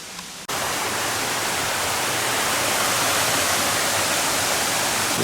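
Water rushing across a flooded bush walking track on the walk to Jerusalem Bay in Australia, a steady close broadband roar that starts abruptly and continues alone.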